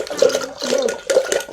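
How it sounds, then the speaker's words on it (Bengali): Cold water is poured into a container while a drink is being mixed, giving short gurgling splashes in about three bursts, close by and moderately loud, with no voices. "আমি একটু ঠান্ডা জল দিয়েছি, আর এটা ঘেঁটে নিয়ে আবারও দেব জল।"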